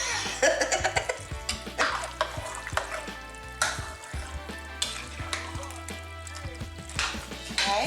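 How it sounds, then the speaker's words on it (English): Venison chili is stirred in a pot, giving scraping and clattering spoon strokes over a soft sizzle, with a brief spoken word and a cough mixed in. "I'm going to go ahead and give it a good stir."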